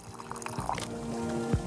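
Tea pours into a mug in the video game Wanderstop, a short liquid stream with soft trickling and a rising fill tone, fairly quiet and alone.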